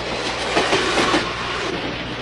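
A train rolls along the rails with a steady rumbling clatter and faint rhythmic clicks of the wheels, heard close and continuous with no talking.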